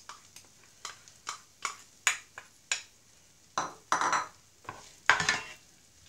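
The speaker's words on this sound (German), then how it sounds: "So, Butter ist jetzt geschmolzen, es duftet. Jetzt kommen die Zwiebeln hinzu." Onions stirred into melted butter in a pan, giving a series of close scraping, clattering utensil strokes with light sizzling, uneven in rhythm and fairly clear with no talking.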